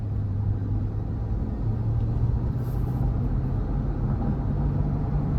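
A 2023 GMC Yukon Denali Ultimate with its 6.2-liter engine gathers speed, heard from inside the cabin as a steady low rumble and road drone with no voices.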